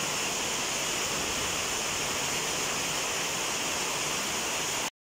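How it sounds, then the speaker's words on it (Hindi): Heavy rain pours outside a home in Kerala in the evening, a dense, steady, broadband wash of noise with no talk, cutting off abruptly near the end. "मैं बाहर का आपका लाइट जला के दिखाती हूँ कैसा बारिश हो रहा है"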